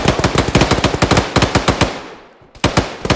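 Rapid automatic gunfire in ArmA, a steady close burst of evenly spaced loud shots that stops and decays, then a new burst begins.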